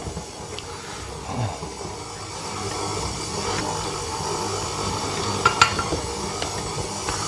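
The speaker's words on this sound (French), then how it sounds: "On laisse pétrir tranquillement." Stand mixer kneading pizza dough made with oil, a steady low mechanical whir and hiss running throughout with a few faint clicks, no voices.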